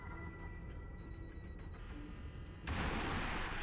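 Cannon fire from a MiG-31BM Foxhound warplane in a video game, a dense rumbling burst of rapid shots that swells loudly near the end, heard without talk.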